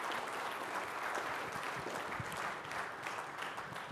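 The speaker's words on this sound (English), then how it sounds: "give all of yourselves a round of applause" A conference audience of storage facility owners applauds in a steady, dense wash of clapping that stays fairly soft and distant throughout, with no voices heard.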